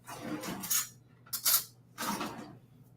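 A metal spoon stirring nut milk creamer into a mug of coffee, three short clinking scrapes against the cup, close and fairly quiet, with faint hum underneath.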